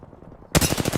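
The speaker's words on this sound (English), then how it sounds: "They shooting at me." Rapid automatic gunfire in Apex Legends starts abruptly halfway through, a loud, close burst of evenly spaced shots after a quiet lead-in.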